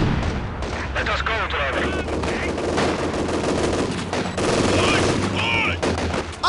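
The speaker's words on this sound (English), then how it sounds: "Artillery fire!" Artillery and gunfire in the Stalingrad battle of Company of Heroes, a dense continuous barrage of booms and rattling shots with whistling shells, soldiers shouting over the din.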